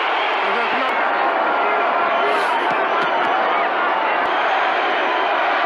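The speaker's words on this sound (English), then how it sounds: "Filipino crowd chanting for their man" A Filipino crowd at a Manny Pacquiao boxing match roaring and chanting for their fighter before the last round, a loud, continuous wall of massed voices filling the arena.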